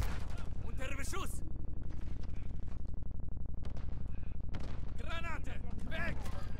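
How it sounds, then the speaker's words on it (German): Rapid automatic gunfire in the Call of Duty Modern Warfare 3 video game rattles continuously and loud throughout, with sharp bursts and in-game shouts breaking through the shooting. "Der dreht sich um und ballert dich weg."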